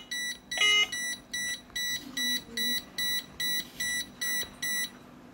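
Evenly spaced electronic beeps from an INIM addressable fire suppression panel signalling a smoke alarm repeat about twice a second, high and steady, continuing throughout with faint background noise.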